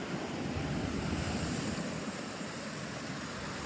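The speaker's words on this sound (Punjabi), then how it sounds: "ਇੱਥੋਂ ਦੇਖੋ ਮਿੱਤਰੋ ਫੇ ਨਜ਼ਾਰਾ ਸਮੁੰਦਰ ਦਾ ਮਾਰਦੀਆਂ ਨੇ ਲਹਿਰਾਂ ਛਾਲਾਂ" Sea waves break on the shore in a continuous rushing roar, joined by wind buffeting the microphone, with no voices heard.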